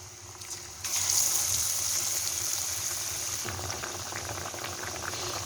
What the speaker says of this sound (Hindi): हमारा ये बैच बहुत ही अच्छी तरह फ्राई हो रहा है।